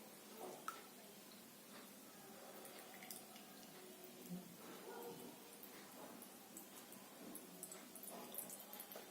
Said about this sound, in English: See, the water is going in the filtration tank.